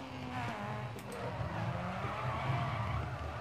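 A Ford Escort rally car slides in DiRT Rally, its tires skidding in a continuous, rough scrubbing roar over engine drone, steady and close throughout.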